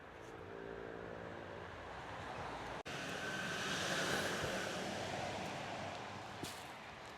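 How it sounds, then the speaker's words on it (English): Faint road traffic carries from a nearby road along a narrow strip of coastal habitat near Ventnor on the Isle of Wight, a broad wash of passing vehicle noise that swells and fades, with a sharp click partway through. "It's a bit noisy when there's traffic on it."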